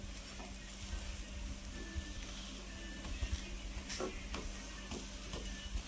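An onion paratha fries in oil on a pan, giving a steady, soft sizzle with faint crackles throughout and no talking.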